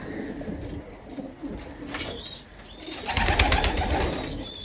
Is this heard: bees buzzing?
no